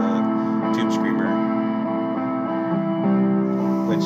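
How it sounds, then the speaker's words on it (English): Electric guitar run through an Avalanche Run reverb pedal and a Tube Screamer overdrive, looped on an RC-3 Loop Station: sustained, lightly driven chords ring out with a wide, echoing wash at steady, loud volume, with no voice. "I was just messing around with some reverb from the Avalanche Run, and then that little bit of, you know, overdrive sound is from the Tube Screamer"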